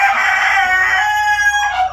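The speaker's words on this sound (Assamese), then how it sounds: "তো চাওক পোৱালি জাগিছে, কিমান ধুনীয়াকৈ আছে পোৱালিখিনি" Newly hatched Rhode Island Red chicks cheep loudly and shrilly up close, a continuous high peeping that briefly shifts pitch near the end, with a faint low hum beneath.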